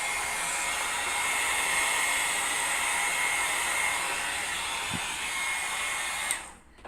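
A hair dryer blows steadily on freshly applied paint, a loud continuous broadband whoosh held for about six seconds before it cuts off abruptly near the end.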